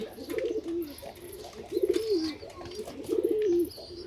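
A pair of khaki pigeons cooing close by, with three rolling coo phrases in a slow repeating rhythm over a quiet background.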